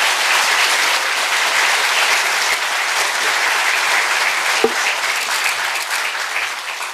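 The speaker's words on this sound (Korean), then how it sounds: "다시 한번 문재인 전 대표님께 큰 박수 부탁드리겠습니다." A forum audience gives loud, sustained applause, a dense and even roar of many hands clapping from start to finish, with one brief knock partway through.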